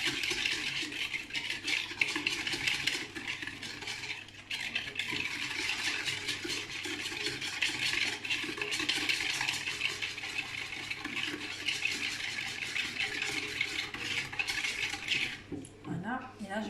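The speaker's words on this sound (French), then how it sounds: "j'ai utilisé mon pichet micro-cook 1 litre, mon fouet plat métallique" A flat metal whisk stirs sugar in a one-litre Micro-Cook plastic pitcher, a continuous quick scraping and tapping rhythm that runs for the whole stretch, close and fairly loud, with no talking over it.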